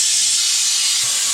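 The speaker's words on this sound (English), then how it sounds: "Now it's drawing a vacuum down. Sorry for the noise." A steady, loud hiss of a vacuum pump drawing vacuum on a Toyota Highlander A/C system, running nonstop, a bright rushing noise close by with no talking.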